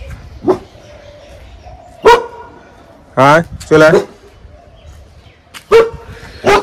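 A dog on a street barks about six times in irregular bursts, some of them doubled, at close range, while a person calls out between the barks.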